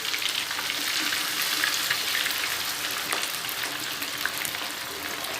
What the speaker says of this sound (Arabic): وننزل بالراحه عشان البصل هيخلي الزيت يفور